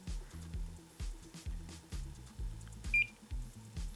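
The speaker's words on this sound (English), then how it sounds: "I'm in continuity mode. The central 4 pins are ground. So these are gonna beep" A multimeter in continuity mode beeps as its probes touch the ground pins of an old computer board. The short, quiet beeps repeat in a fairly steady rhythm, roughly two per second.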